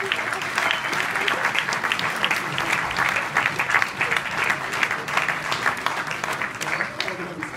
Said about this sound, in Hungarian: Nagy taps és ováció a színpadon